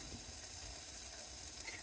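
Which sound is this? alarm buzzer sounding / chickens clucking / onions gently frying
onions gently frying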